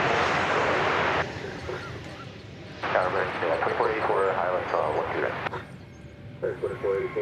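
American Airlines Boeing 737-800 arriving from Austin, Texas at DFW Airport, a broad jet roar rising and falling at moderate distance while someone talks over it.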